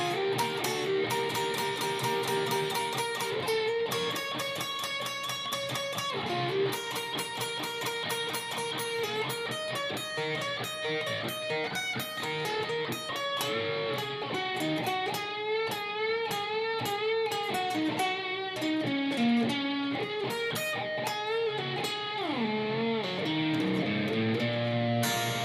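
Slow electric guitar rendition of a solo, a continuous run of bent notes and quick melodic phrases at steady moderate loudness, played alone without talk.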